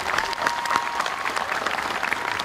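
Audience at a high school commencement ceremony applauding graduates, a dense, continuous burst of clapping filling the hall at steady loudness.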